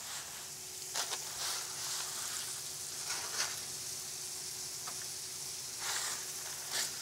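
Pasta goes into a hot pan and sizzles, giving a steady, close frying hiss with a few brief crackling bursts and stirring clatter.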